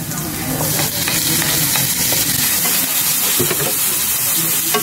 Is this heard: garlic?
yes